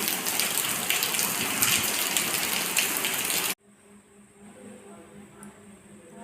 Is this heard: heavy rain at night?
yes